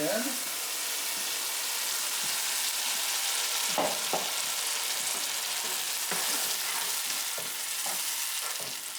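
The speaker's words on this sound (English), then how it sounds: "it's time to add our fresh tomatoes" Chopped fresh plum and vine tomatoes dropped into a hot pan for marinara sauce, setting off a loud continuous sizzle with scattered clinks and scrapes of stirring, close up, without talk.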